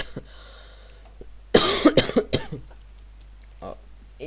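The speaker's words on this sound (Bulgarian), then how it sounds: "Извинете, че кашлям отново." A close burst of several harsh coughs in quick succession after a quiet stretch, with a softer throat sound shortly afterward.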